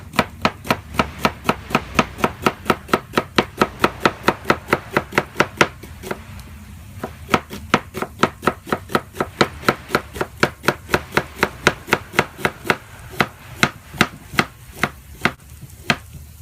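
Steady rhythmic knife chopping on a cutting board while preparing cornbread stuffing for Thanksgiving, dozens of sharp close thumps in a quick regular beat with a brief pause midway, no talk.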